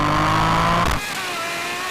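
A Toyota Yaris accelerating in a race against a Ferrari 812 Superfast, its engine revving hard and close with a steady whine, then easing off into a lighter, distant drone.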